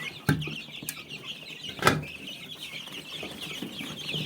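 Faint clucking of chicks with a couple of sharp louder knocks, over a steady high background hiss.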